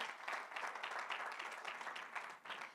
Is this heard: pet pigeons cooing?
no